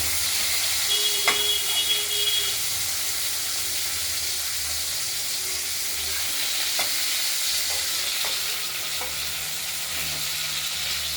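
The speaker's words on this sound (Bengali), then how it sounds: "আলুগুলো ভাজা হয়ে কিছুটা ভাজা হয়েছে, আর কেটে রাখা টমেটোটা দিয়ে দেবো।" Steady sizzling of potatoes and tomatoes frying in a pan fills the clip, with occasional clinks of a utensil stirring and scraping; no voices.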